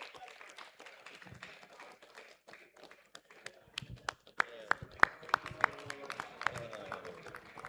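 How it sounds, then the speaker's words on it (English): A crowd claps at a memorial lecture and grand reception in Anambra State honouring a healthcare figure; scattered taps swell into fuller applause with sharp individual claps, while faint voices murmur in the room. "Clap now."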